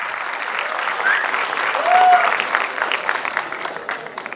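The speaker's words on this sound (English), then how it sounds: "A big round of applause for everybody who has got us A+." Audience applause at a college annual day ceremony, a steady wash of clapping that swells near the middle and continues throughout, with some voices faintly mixed in.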